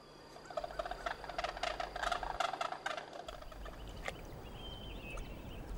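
Sandhill cranes give rattling, trumpeting calls that overlap for a few seconds, then fade into a soft outdoor background with a faint later call.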